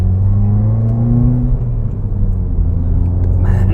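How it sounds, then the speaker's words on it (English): A 2016 Subaru WRX with an aftermarket exhaust revs up close and loud, a deep droning rumble that rises in pitch and then falls away, with no talking over it. "Oh, that exhaust sounds fucking awesome."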